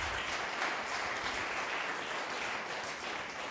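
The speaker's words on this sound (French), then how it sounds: "on peut l'applaudir." A conference audience applauds a speaker after a talk on blockchain and audiovisual rights management, a faint, even wash of clapping heard from a distance without a break.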